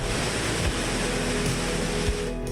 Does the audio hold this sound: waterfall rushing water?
yes